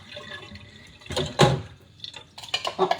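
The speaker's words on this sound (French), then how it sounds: "Mon petit broyeur. Je vais rincer ça." A small kitchen grinder is rinsed under running tap water. Splashes and gurgles come close and in short bursts, loudest in the middle, with some clattering handling in between.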